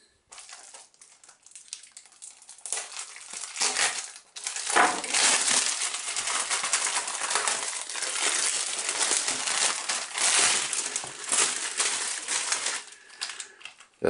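Close, continuous crinkling and crackling of a Trash Pack booster pack wrapper being torn open and handled, starting softly and then growing busy and loud for about ten seconds, with no talking.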